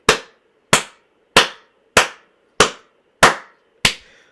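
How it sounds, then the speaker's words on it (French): Seven sharp, single hand claps ring out one at a time at an even pace, each crisp and close with a quick fading tail and silence between them. "Ah, mais il faut que j'applaudisse"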